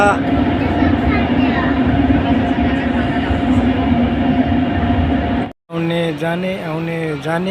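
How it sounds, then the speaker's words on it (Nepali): Loud continuous rumble and roar of an underground metro train running past, then cutting out abruptly, followed by a person speaking. "यहाँदेखि चट्टै मुनि अन्डरग्राउन्ड मुनि छौँ। ट्रेन ला हेर्न सक्नुहुनेछ।"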